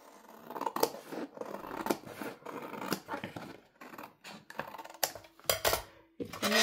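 Scissors snip repeatedly through cardboard while cutting a box for recycling, a series of crisp crunching cuts with short pauses between them, close and fairly loud.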